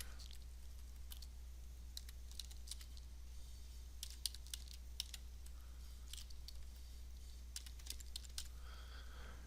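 Typing a file name on a computer keyboard: faint, quick key clicks in short irregular bursts over a low steady hum, with no voice.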